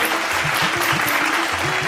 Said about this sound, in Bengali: এবার জোরে হাততালি হয়ে যাক।